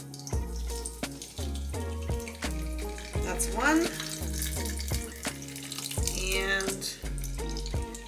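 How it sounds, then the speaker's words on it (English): Beef empanadas sizzling as they are laid into hot frying oil, a steady loud bubbling hiss throughout with a few clinks, while a person talks over it. "I'm starting to see some bubbles there when I put the empanada down, so I'm gonna lay this first one in."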